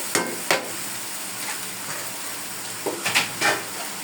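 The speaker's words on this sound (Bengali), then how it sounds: "এখন আমি দিয়ে দিব বাঁধাকপি।" Boiled cabbage hits cooked meat in a frying pan with a soft sizzle, punctuated by several sharp clanks and scrapes of a utensil against the pan.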